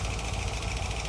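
A C2 Corvette's 327 V8 with a 4-speed manual idles smoothly at close range, a steady low burbling rumble that stays even throughout with no voices.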